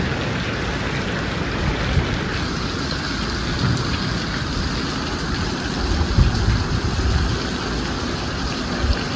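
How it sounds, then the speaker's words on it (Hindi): Heavy rain pours steadily on surfaces in a dense, constant hiss. Low rumbles from the storm sit underneath it, and there is no talking. "ये देखो ये हो गई है बारिश"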